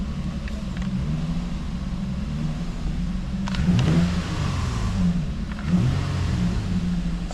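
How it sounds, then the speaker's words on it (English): A Toyota engine with a check engine light on, being diagnosed for lost throttle control, revs up under applied throttle in a few swells, near and steady, with a low rumbling idle between the rises. "Let's give it a little bit of throttle."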